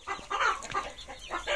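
Green Shell hens cluck close by in a coop, giving a quick run of short, soft clucks with brief pauses between them.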